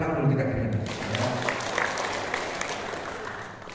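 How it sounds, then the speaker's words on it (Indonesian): An audience at a rural farming-region gathering in Karo, North Sumatra, claps together in a dense, sustained burst of applause, loud and close, with some crowd voices mixed in. "Tepuk tangan dulu"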